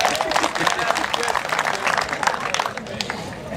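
An audience claps at a live event launching a fund, producing a busy, sustained patter of many hands that fades slightly toward the end.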